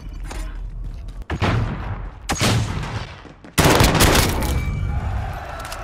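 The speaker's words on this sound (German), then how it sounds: "M16, wie kann der so viele Schüsse auf einmal auslassen?" Bursts of rapid gunfire from an M16 semi-automatic rifle in Call of Duty: Modern Warfare Warzone, loud and close, several volleys in quick succession with booming echoes.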